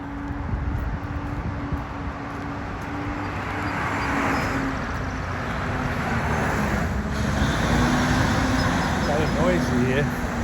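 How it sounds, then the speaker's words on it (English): Fire trucks drive past on a village road in historic Stony Brook near the waterfront, a steady roar of engines and tyres that swells toward the end, with a faint siren-like whine and someone talking over it. "Noisy here. Fire trucks going by."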